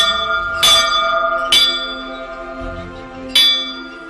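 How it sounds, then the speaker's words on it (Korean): A bell rings in a village in Nuuk, Greenland, with three clear strikes spaced about a second apart, each leaving a long shimmering ring that fades between hits. It sounds fairly close, with no talking. "이 종소리를 들으면 떠난 사람들이 돌아올 것 같은 착각이 됩니다."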